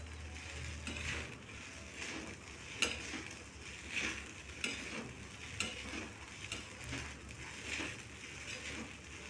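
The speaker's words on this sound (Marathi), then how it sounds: "नंतर अजून व्यवस्थित मिक्स करायचे।" Sabudana khichdi with crushed peanuts being stirred in a frying pan, a soft continuous sizzle broken by repeated scraping strokes and light clinks of the spoon, close and quiet.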